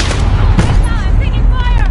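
Heavy gunfire and explosive blasts in the shooter game Warzone, loud and dense, with shots and booms piling over each other with no pause.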